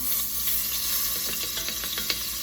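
Half a teaspoon of garlic sizzling in a hot pot while braising short ribs, a steady broadband frying hiss with faint stirring scrapes, close and continuous with no talk.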